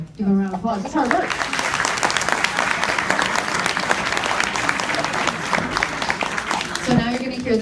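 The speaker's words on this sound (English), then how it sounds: "Give them a round of applause." Audience applause at a school instrumental concert, a sustained burst of clapping from a crowd lasting several seconds, with a voice speaking briefly before and after it.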